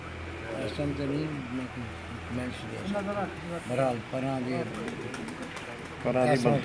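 A pigeon held in someone's hand coos repeatedly up close, in soft throaty rolling phrases, with some quiet voices in the background.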